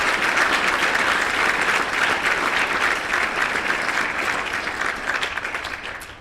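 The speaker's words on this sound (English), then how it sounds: "we'll give you a massive round of applause" Loud, continuous clapping from an audience at a live Gold Coast Marathon event, dense and even, tapering slightly toward the end.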